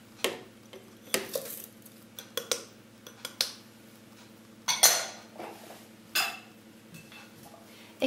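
Butter being mixed with granulated and cane sugar for pumpkin cupcakes, with a utensil repeatedly knocking and scraping against the bowl in irregular clinks at close range.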